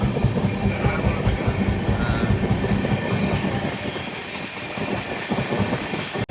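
A goods train rolls past slowly on an electrified triple-line railway track, giving a continuous close rumble with faint rhythmic clatter and a brief squeal near the end.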